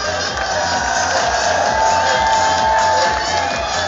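Loud, dense crowd cheering and whooping at a beach beauty pageant as three finalists come out, sustained throughout with shouts and voices mixed in.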